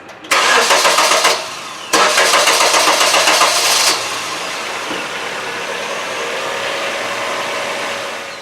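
A car engine starts in two cranking bursts, the first stopping briefly before the second catches, then settles into a steady, loud idle that runs evenly to the end, after an oil system cleaning treatment is added.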